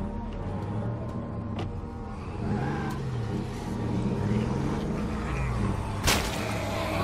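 A car engine idles and revs in the zombie survival game State of Decay 2, a steady close rumble with rising pitch sweeps and a sharp knock near the end, with someone speaking briefly.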